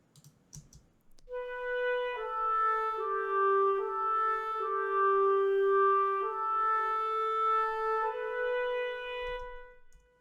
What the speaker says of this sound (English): And then doubled by the clarinets.